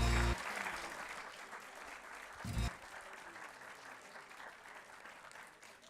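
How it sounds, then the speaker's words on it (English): Sustained applause from the audience at a UMFVBT dental medicine graduation ceremony: a steady, dense clapping wash with a brief louder bump near the start and middle, tapering slightly at the end, with faint voices underneath. "One big round of applause until everyone comes to their seats"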